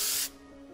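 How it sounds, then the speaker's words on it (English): Dry Boost texturizing spray from a salon aerosol can hisses onto hair in one short, close, loud burst lasting about a quarter second, then cuts off to a faint room hum. "I wanna spray to the scalp and then up through about the bottom half of the hair"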